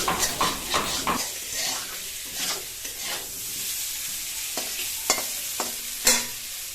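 Boiled soybeans tossed into hot oil in a wok, giving a steady sizzle and hiss with repeated scraping stirs and occasional metallic knocks of the utensil, close and fairly loud with no talk.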